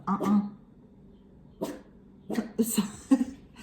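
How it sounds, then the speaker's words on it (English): A dog gives a few short, sharp barks close by, with a person's voice speaking softly between them. "No barking, my love."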